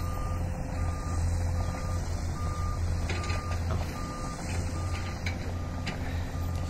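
A ten-wheeler truck arrives, its diesel engine rumbling low and steady while a reversing beeper sounds in regular evenly spaced pulses throughout, with faint clanks in the background.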